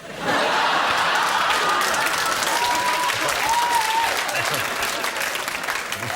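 A studio audience at a British comedy quiz show breaks into loud sustained applause that holds for several seconds and tapers slightly, with a few voices talking under it.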